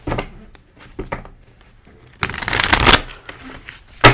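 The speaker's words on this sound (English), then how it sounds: "you cannot rush the process of shuffling the cards" Tarot cards being shuffled up close, in quick riffling bursts with short pauses, growing to a longer, louder run of shuffling near the end.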